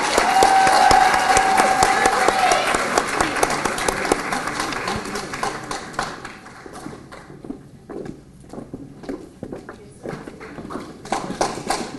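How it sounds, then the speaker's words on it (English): Applause from an audience of educators at a fall pinning ceremony for an educator preparation program, a sustained wash of clapping with a brief tone early on, gradually thinning and fading toward the end. "Please give all of the early childhood education educators a round of applause."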